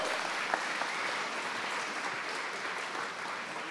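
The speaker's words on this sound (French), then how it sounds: "Est-ce qu'on peut applaudir Diego?" Steady crowd applause fills the space for several seconds, a dense wash of many hands clapping at even loudness, with a few sharper claps standing out.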